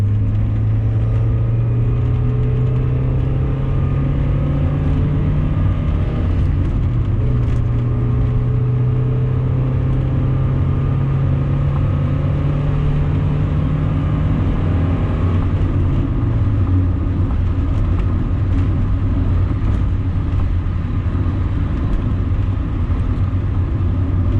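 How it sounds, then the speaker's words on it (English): Inside a 1990 Mazda Miata on the move, road noise forms a loud, steady rumble and whir, with the engine's droning hum shifting pitch as the car changes speed, and no one speaks. "There's a lot of road noise, though."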